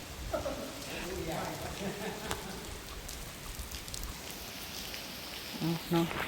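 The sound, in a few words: rain falling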